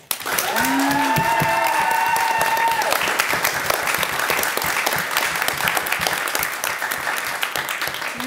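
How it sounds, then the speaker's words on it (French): A debate audience at a parliamentary-style eloquence final breaks into sustained applause for a speaker, loud and dense clapping over about eight seconds, with a brief voice and tones at the start before it slowly tapers. "Mesdames et messieurs, sous vos applaudissements, Doha Barakat."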